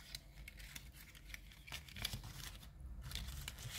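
Paper tray being folded along its long sides, soft crinkling and creasing taps in a quick irregular series, close and quiet, with no talk.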